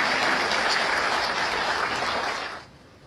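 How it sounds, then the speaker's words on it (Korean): A hall audience applauds at a keynote event on abolishing the death penalty, an even wash of clapping that fades away after about two and a half seconds. "다시 한번 박수를 맞아주시죠."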